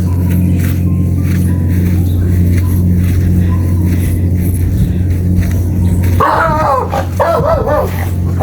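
A startled dog barks and yips, loud and close, breaking out suddenly near the end over a steady low hum of background noise.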